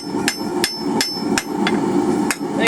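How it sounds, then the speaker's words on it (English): A hammer's flat side strikes hot steel while a hanging hook is forged, about eight light, sharp ringing blows at an irregular, steady pace, close and loud with no talk. "with the flat side of the hammer, we're not doing any super hard blows or anything"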